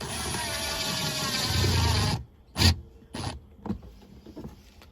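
A power tool drives a socket onto a lower panel screw inside a Toyota LandCruiser 100/105 Series, giving a steady close whirring run for about two seconds, then a few short sharp bursts and knocks.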